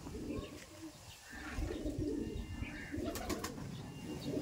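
Madrasi pigeons, a Chennai-line breed with yellow eye patches, coo in low repeated rolls throughout, with a brief flutter of wings and faint chirps nearby; no voices.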